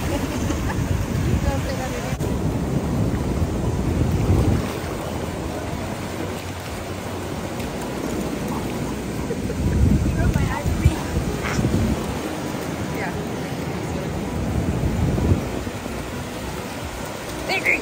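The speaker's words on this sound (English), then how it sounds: "The waves." Ocean waves washing onto a beach make a continuous broad roar with gentle swells, and voices talk over the surf throughout.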